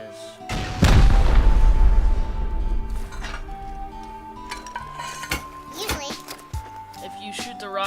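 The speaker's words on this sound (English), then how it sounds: "you take rockets and you just shoot this line" Rocket explosions slam into a base wall in the video game Rust, one heavy booming blast followed by a long rumbling decay, then lighter clinks and smaller impacts while someone talks.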